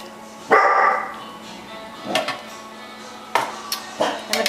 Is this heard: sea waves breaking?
no